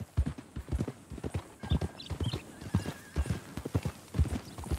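Horse hooves clip-clop steadily in Red Dead Redemption 2, a close, even, repeating rhythm with a brief whinny partway through and no speech.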